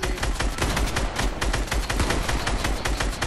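Rapid bursts of gunfire ring out in a Fortnite match, loud close shots in quick repeated volleys with no talking over them.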